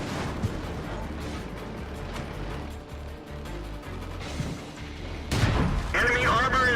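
Tank cannon fire in World of Tanks, with muffled booms and impacts scattered through a rumbling, busy battle mix, growing louder and denser near the end, while someone talks over it.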